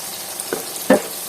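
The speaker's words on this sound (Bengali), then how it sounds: "এই যে শুটকি আর পেঁয়াজটা একটু ভাজা ভাজা করে নিচ্ছি" Dried fish and onions frying with crushed garlic in a pan, a steady close sizzle with two brief stirring scrapes, no voices.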